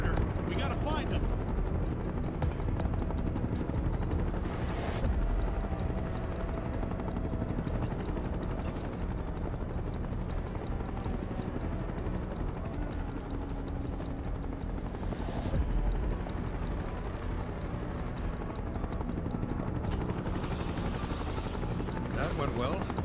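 Helicopters hover overhead in the video game Final Fantasy VII Rebirth, making a continuous low rotor drone that lasts the whole stretch, with character voices talking over it.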